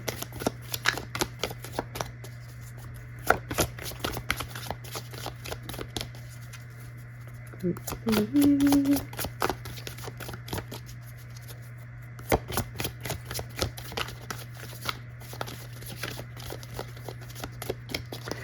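Tarot cards are shuffled by hand in repeated quick riffling bursts and soft flicks over about eighteen seconds, close and crisp against a faint steady hum.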